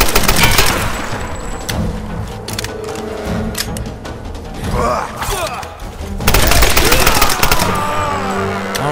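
Rapid, loud gunfire in the Tomb Raider video game, with dense bursts and scattered single shots close by, and a voice speaking briefly over the action.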